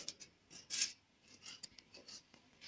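Mint leaves being chopped into small pieces on a board, heard as faint, soft knife strokes and light crisp cuts, irregular and quiet.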